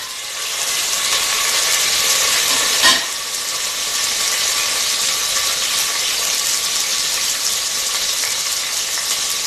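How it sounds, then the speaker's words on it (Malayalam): Cumin, cardamom, cinnamon, clove and green chilli crackle and sizzle in hot ghee as a dense, steady frying hiss, with one brief clatter partway through. "ഇനി ഇതിലേക്ക് ജീരകവും ഏലക്ക, പട്ട, ഗ്രാമ്പ് എല്ലാം കൂടി ചേർന്നുള്ള ഇതിനകത്തേക്ക് ഇടുകയാണ്. പച്ചമുളക് ഇടുക."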